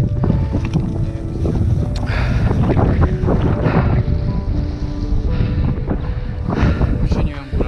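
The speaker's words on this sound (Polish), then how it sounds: "Ale tu wieje, co?" Strong wind blows steadily across an exposed hillside in Iceland, gusting loudly against the microphone for the whole stretch, with a faint voice underneath.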